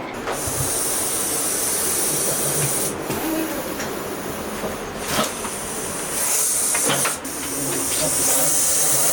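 A Russell's viper gives a steady, loud warning hiss filling the whole stretch, broad and airy like escaping steam, with a few brief louder bursts and no talking.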